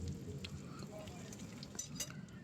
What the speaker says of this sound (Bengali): আর পেঁয়াজটাকে ভালো করে ভেজে নেবো, তবে অবশ্যই একদম লাল করব না